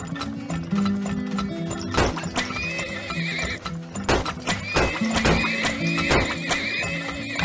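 Horses in the strategy game Turmoil neigh and whinny repeatedly over a busy background of clip-clopping hooves and other game sounds, loud and close, with several sharp calls spread across the stretch.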